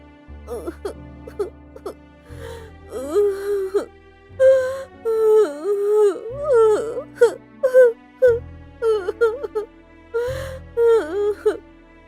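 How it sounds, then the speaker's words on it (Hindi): A voice wails and sobs in long, quavering, rising cries, broken by gasps, over a low sustained musical drone. "ये किसकी रोने की आवाज है?"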